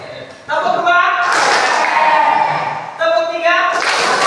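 A classroom group claps through the second of a set of numbered clap routines, a dense burst of many hands lasting over a second between stretches of loud chanting children's voices.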